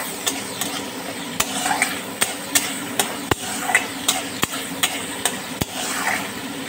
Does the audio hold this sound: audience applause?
no